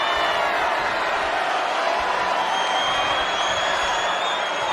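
Wrestling crowd in the video game WWE 2K25 during a Monday Night Raw match, a steady dense roar of cheering that holds at even loudness throughout.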